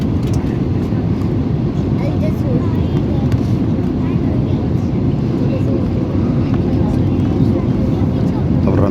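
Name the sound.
airplane landing at Delhi airport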